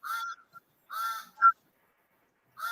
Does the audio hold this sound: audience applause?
no